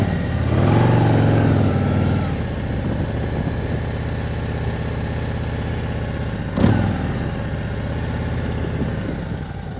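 Motorcycle engine during a riding practice lesson, with a medium-loud idle that swells as the clutch is let out, then a steady running tone and one brief sharp knock partway through.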